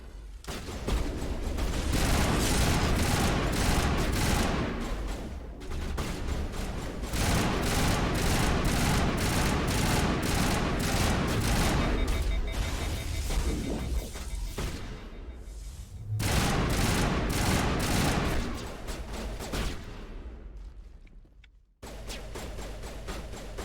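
Sustained bursts of assault rifle fire in a Mass Effect firefight rattle loudly and nearly continuously, broken by brief pauses, with a sudden cutoff near the end.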